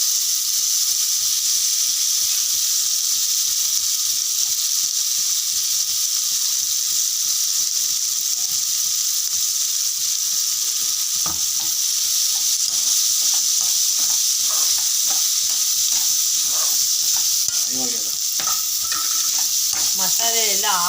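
Ground chili masala paste stirred into a sizzling tempering of urad dal for chitranna, with a loud constant frying hiss and repeated scraping stirs that grow busier toward the end.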